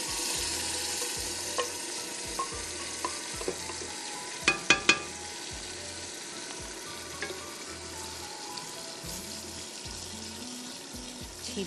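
Tandoori mutton masala fries in a pan with a quiet, steady sizzle, broken by a few soft spoon taps and a quick cluster of sharp clinks near the middle, with no talk.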